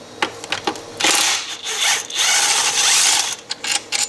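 During a car belt repair, a power tool rattles in bursts to loosen a tight top bolt, loud and close, with short on-off pulses giving way to a longer sustained whirring run before stopping.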